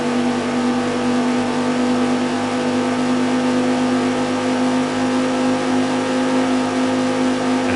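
A car engine in the 1998 racing game Viper Racing holds a loud, steady droning rev with a strong sustained tone, throttle kept even and unbroken throughout.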